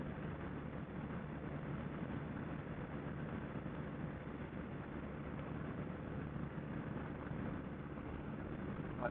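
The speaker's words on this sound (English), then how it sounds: "BMW R1200 RS. This is the 2016 model. She just purrs right along." A 2016 BMW R1200 RS motorcycle engine runs at a steady, smooth drone throughout, a continuous low rumble with no talking over it.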